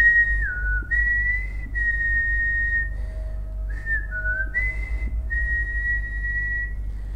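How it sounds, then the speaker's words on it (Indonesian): A thin, wavering whistle holds long high tones with slight bends and brief breaks, over a low steady hum, no voices. "sosok pocong itu mengeluarkan suara seperti siulan"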